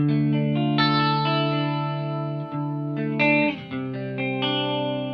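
A Scott Walker Fathom Phantom electric guitar with Jazzmaster pickups plays a clean tone, sustained chords and single notes ringing out with long decay and a couple of brief pauses, with no one talking.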